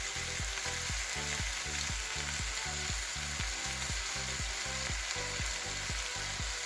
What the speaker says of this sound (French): Là-dessus, je vais rajouter 2 cuillères à soupe de sauce soja